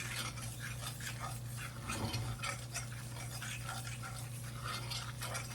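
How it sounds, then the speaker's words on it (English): Flour stirred through hot bacon grease in a pan for country breakfast gravy, a steady scraping and swishing of the utensil across the pan with a faint sizzle beneath and a low constant hum, continuous and close. "So we're just stirring our flour around, getting all the lumps out, and we're cooking our flour in the bacon grease."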